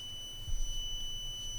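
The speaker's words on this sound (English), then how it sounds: "It's very handy and useful alarm if you want to make a gas leakage alarm." A cheap gas leakage alarm gives a steady, piercing high electronic tone that holds for the whole moment over a low background hum, close and fairly loud.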